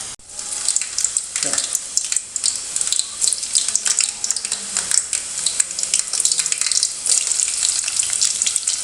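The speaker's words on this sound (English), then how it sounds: "the onion is being added, and then you see it's starting to boil there, the onion" Onion frying in hot oil for a spinach dish, a steady bright sizzle with crackling spits, near and loud throughout, with a few stirring knocks.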